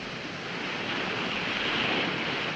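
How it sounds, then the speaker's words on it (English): Ocean surf washing steadily, a continuous broad roar of breaking waves with some wind noise, loud and unbroken, no voices. "You like the sound of the ocean?"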